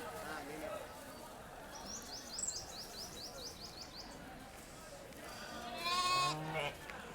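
A few lambs bleat near the end, loud and wavering, after a stretch of talking and birds chirping in the background, at a sheep and goat market in Kadiri.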